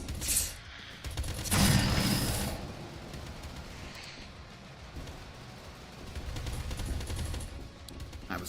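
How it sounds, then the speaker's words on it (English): Mortar fire in the video game Doomtrain: a heavy burst of booming, crackling shots around the middle, with a fainter shot early and a rumbling flurry of fire toward the end, no talk. "The mortar."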